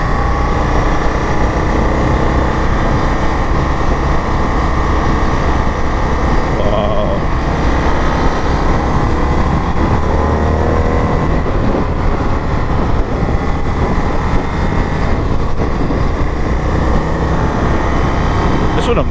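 Indian FTR1200 motorcycle pulling hard in third gear on a demo ride near Laconia, a steady, loud engine drone with rushing wind noise running unbroken throughout; a rider's voice may come through faintly.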